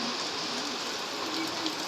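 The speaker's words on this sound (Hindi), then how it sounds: "ऐसा लग रहा है बाहर बारिश हो रही है" Steady rain falling outside a house in Rampurhat, heard as a constant broadband hiss with no distinct drops, filling the scene evenly with no one talking.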